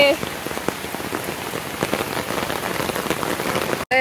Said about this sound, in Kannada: ಸರಿಯಾಗಿ ಮಳೆ ಬರ್ತಾ ಇದೆ ಇವಾಗ.